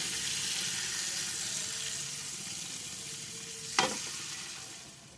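Salted fish (ikan peda) frying in oil in a home kitchen, a steady broadband sizzle with one brief sharp crackle or clink near the end.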